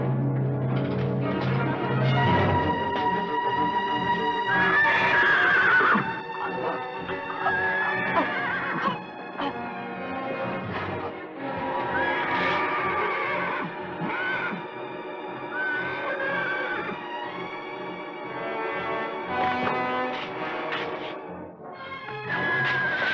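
A horse neighs and whinnies repeatedly in a Western drama setting, with long, shrill, wavering calls rising and falling over about twenty seconds, fairly close and loud, with no talk.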